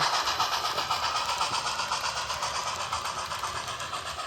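A Pacific Fruit Express train, hauled by a Mogul steam locomotive and a GE 44-tonner road engine, rolls down a steep downhill grade with a steady rumbling roar and faint rhythmic rail clatter, loud and continuous with no voices.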